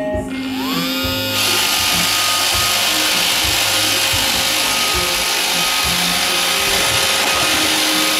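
An iRobot Roomba 535 robot vacuum makes a straight run across the floor, its whirring motor and brushes starting up and then holding a steady, close, loud drone with faint rhythmic bumps underneath.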